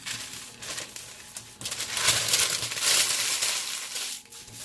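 A piece of paper is handled up close, giving bursts of crinkling and rustling that swell in the middle and then fade, with no talking.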